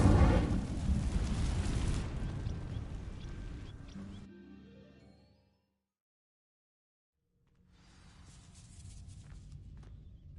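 Fire spell cast on dry vines in the Hogwarts Legacy video game: a loud, dense burst of crackling flame for about four seconds that fades into silence, followed later by a quieter resurgence of magical rumble.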